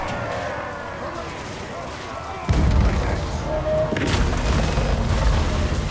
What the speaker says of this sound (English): There's a Brimstone gun firing at them